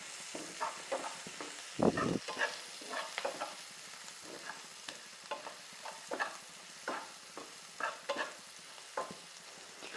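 Salt, turmeric and red chilli powder get stirred in a pan for onion kachori, a quiet soft sizzle broken by repeated light spoon scrapes and taps in an irregular rhythm, close-up with no talking.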